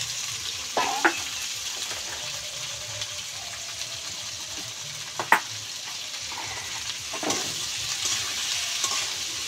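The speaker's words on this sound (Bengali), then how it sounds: "আমি মাংসর আলুটা আগে ভেজে নিলাম" Potatoes for a meat curry fry in a pan with a steady hiss, joined by a few sharp clinks and scrapes of stirring. No one speaks.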